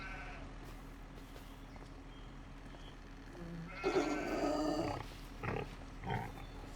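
Sheep in a Farming Simulator 25 farm enclosure bleat a few times over a quiet ambient background, with one longer bleat followed by two shorter ones near the end.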